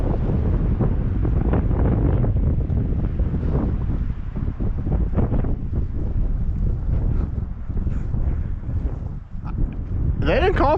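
Strong wind gusts of around 40 mph on a summer snow hike in a mountain wilderness: heavy, continuous roaring buffeting on the microphone, loud and close, with a voice partly buried beneath.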